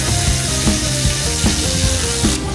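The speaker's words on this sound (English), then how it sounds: "then start running all our bolts in with our nice little electric ratchet." An electric ratchet runs bolts into a transmission on a twin-turbo Ram 1500. It makes a loud, steady mechanical whir with rhythmic pulses that recur about every three-quarters of a second.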